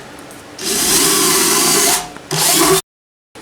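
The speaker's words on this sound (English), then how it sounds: "1/4-inch drill worked fine, drilled right through it" A power drill with a 1/4-inch bit whines loudly for about two seconds, pauses briefly, then bores again in a shorter burst before stopping abruptly.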